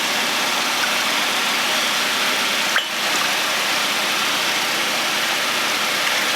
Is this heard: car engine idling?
yes